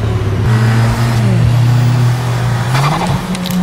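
Fiat Punto T-Jet with a 200 hp engine revs loudly and close, the pitch climbing and falling through repeated throttle blips, with a brief squeal-like note near the end; no one speaks.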